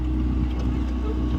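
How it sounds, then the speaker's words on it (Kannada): A motorboat at a water park, its engine a loud steady low drone close by with wind and water noise, while people talk over it. "motor boat"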